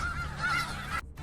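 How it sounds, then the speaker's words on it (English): Chickens in the video game Reverse: 1999 give out loud, continuous honking cackles that sound close. The sound drops away briefly near the end and then resumes. "Look at all those chickens!"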